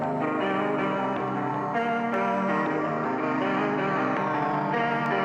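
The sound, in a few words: pitched guitar sample with delay, reverb and OTT effects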